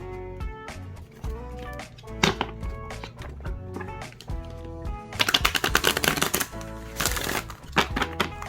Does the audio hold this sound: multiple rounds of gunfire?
no